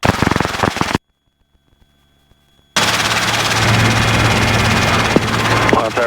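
A Robinson R22 helicopter taxis at close range, its steady rotor and engine drone filling the scene, cut by a silent gap of almost two seconds before the loud whir resumes.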